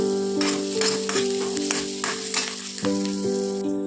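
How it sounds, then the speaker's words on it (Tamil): Onion and spice mixture being stirred and fried in a pan for Tamil-style egg gravy, with a constant close sizzle and regular scraping strokes of a spoon, while a steady tonal hum runs underneath. "நல்லா ப்ரௌனிஷா வர வரை நம்ம கிண்டி விட்டுக்கலாம்"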